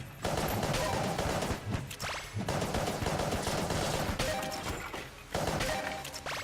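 Rapid gunfire from the Glass Cannon weapon in the video game Enter the Gungeon: dense, continuous bursts of shots and crashes, loud and close, with brief pauses between volleys.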